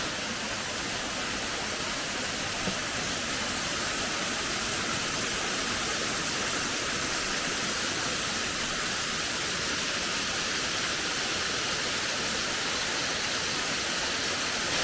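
A waterfall on the Ingleton trail pours steadily and loudly, filling the air with a dense, unbroken roar that holds constant throughout, with no voices above it.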